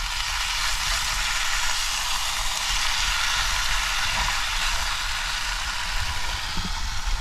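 Food tipped from a tin frying in a pan on a camping stove in a van, a steady broadband sizzle and hiss running unbroken throughout with faint stirring underneath.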